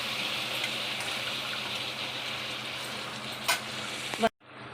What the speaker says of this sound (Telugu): ఇప్పుడు మనం కడిగి నానబెట్టిన 1 గంట పాటు బాస్మతి రైస్ వేసేసుకోవాలి.